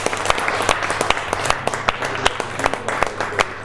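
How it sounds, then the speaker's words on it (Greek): Warm applause from a concert audience for musicians at an outdoor show in Kavala, Greece, a steady wash of many hands with sharper individual claps standing out over a low hum. "Ένα ζεστό χειροκρότημα λοιπόν."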